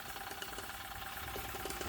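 A small model steam engine ticking over slowly, a soft continuous mechanical chuffing and rattle, close and steady with no talk.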